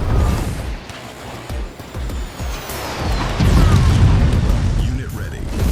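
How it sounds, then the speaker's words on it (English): Heavy airstrike explosions rumble and crash in the Tempest Rising strategy game, a run of deep booms and impacts building toward a louder sustained blast, with a voice speaking over part of it. "Airstrike online."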